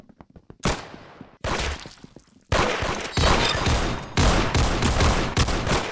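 Video game gunfire from a gun-game mode: a few sharp shots, then sustained loud bursts of rapid automatic fire that fill most of the stretch, close and intense.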